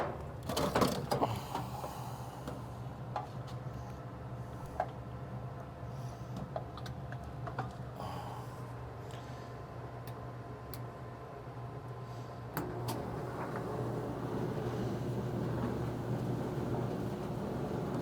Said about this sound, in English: So before I put the back onto the dryer here, I'm just going to make sure that it's working